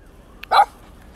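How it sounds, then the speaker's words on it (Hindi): A small young dog lets out a single short, sharp bark close by, with a faint yip just before it and quiet surroundings otherwise. "इसको पता लग गया कि किसको भौंकना है किसको नहीं भौंकना"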